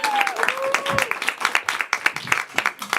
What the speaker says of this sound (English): clap for our players